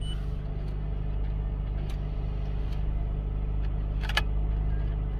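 A car engine idles steadily while warming up, with a constant low rumble and hum and a couple of faint clicks over the drone.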